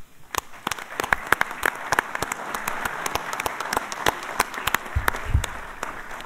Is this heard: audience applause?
yes